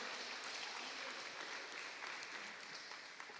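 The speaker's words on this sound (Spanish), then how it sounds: "Le damos una fuerte ofrenda de palmas a nuestro buen Dios" A church congregation gives a sustained round of applause during a worship service, a dense, even wash of clapping that holds steady throughout at moderate distance, with no talking over it.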